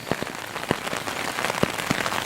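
Rain falls outdoors at a campsite, a steady close patter of drops hitting surfaces with scattered louder individual drips throughout.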